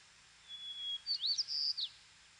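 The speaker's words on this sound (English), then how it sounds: "This white-crowned sparrow sings his clear melody." A white-crowned sparrow sings a clear, whistled song outdoors: a long, thin opening note, then a quick run of bright slurred phrases. It is near and distinct over a quiet background.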